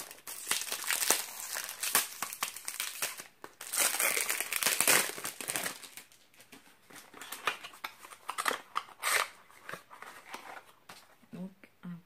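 A crinkly Yves Rocher package being opened close up, bursts of plastic crackling and rustling with tearing, irregular and fairly loud, with brief pauses between handling.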